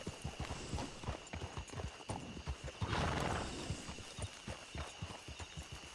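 Video-game horse tied at a hitch beside a wagon: rapid, steady clip-clop hoofbeats with a neigh in the middle, fairly quiet against a low hum.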